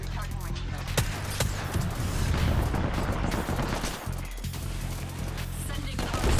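Bursts of gunfire in the battle royale shooter Apex Legends, rapid cracks and fusillades spread across the clip, loud and close, with occasional talking mixed in.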